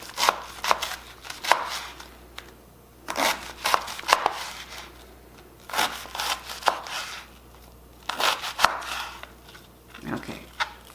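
Knife chopping raw cabbage on a cutting board for bacon and ramp potstickers, irregular bursts of quick crisp chops separated by short pauses, close and clear with no talking.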